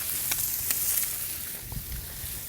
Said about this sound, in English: You can hear the fire, you know it's cranking